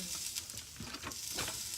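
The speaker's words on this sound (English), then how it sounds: "Our bacon is cooking." Bacon frying in a pan for a simple breakfast, a soft, steady crackling sizzle with faint popping heard close up, with no talking.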